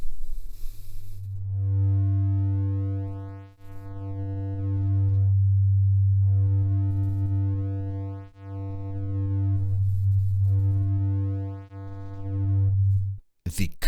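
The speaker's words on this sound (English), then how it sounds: "Here's what it sounds like with the sine wave." A sine wave run through the XOR output of an ANA 2 synth module gives loud, buzzy, distorted electronic tones in three sustained phrases with brief dips between them, ending in a short burst.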